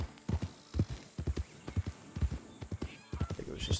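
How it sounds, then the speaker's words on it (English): Horse hooves clip-clop in a quick galloping rhythm inside an open-world hunting video game, several animals stampeding past at close-to-mid distance with uneven bursts of thuds. "I think it was just the horses."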